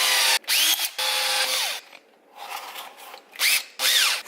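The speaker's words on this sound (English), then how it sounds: "Alright, let's get to drilling." A power drill bores into a TI-82 calculator's plastic case in several bursts, its whine rising and falling as each one spins up and winds down, with short pauses between them and no talking.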